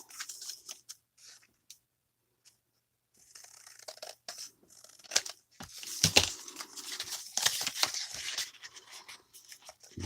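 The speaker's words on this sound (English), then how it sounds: "I think I'm going to trim just the edges off." Scissors snipping the edges off journal card postcards, a few quiet cuts followed by a cluster of sharper snips and paper rustling, close and alone.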